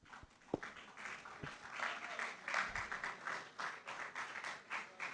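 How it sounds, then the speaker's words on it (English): Applause from an audience at a university pharmacy school ceremony. It is faint and distant, with a few sharp taps at the start, then steady ragged clapping that swells and holds. "Continue applauding until she comes up to the dais."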